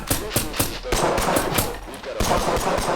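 Gunfire in the Thunder Tier One video game, loud bursts of rapid automatic shots in uneven volleys with heavy thumps, close and continuous over the whole span.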